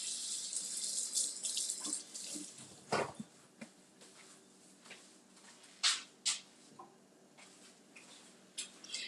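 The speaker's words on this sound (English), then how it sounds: "I'm going to wash my hands." Tap water running into a kitchen sink during handwashing, a hissing stream that is loudest at the start, then splashes and rubbing in scattered bursts.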